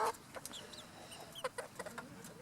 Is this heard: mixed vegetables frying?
no